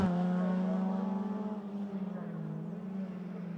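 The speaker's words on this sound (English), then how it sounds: "the race leading car, that of Dominic Flitney, already out of the Devil's Elbow, goes up the hill" Dominic Flitney's race car climbs the hill out of the Devil's Elbow on the Swifts rallycross circuit, its engine holding a steady, strained drone under a commentator's voice.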